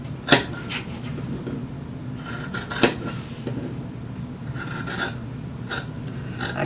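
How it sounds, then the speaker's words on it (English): Scissors snip through fabric to trim a seam allowance during sewing, with two sharp close cuts followed by softer rasping snips, quiet and alone without talking. "I like to trim my seam allowance down"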